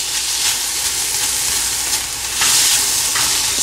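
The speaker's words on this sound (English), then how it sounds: "I'm going to fry this rice into the ghee." Rice frying in hot ghee in a pan for peas pulao gives a steady bright sizzle with soft stirring scrapes, close and fairly loud, a louder burst near the end, no voices.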